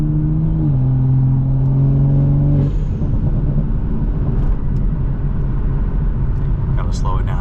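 Toyota Supra engine rumbles and revs under light throttle on a late-night drive, a loud, steady drone with shifting pitch heard from inside the car.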